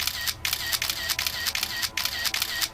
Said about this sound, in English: the sound of the camera shutter in her phone started to go off and clicking repeatedly